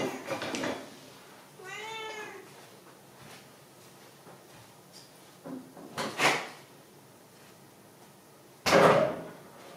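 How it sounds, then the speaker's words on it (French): A door is opened indoors to let a meowing cat in: a few soft meows early on, then scattered clunks and a louder knock or latch sound near the end, with faint room noise between. "je vais lui ouvrir la porte et je reviens"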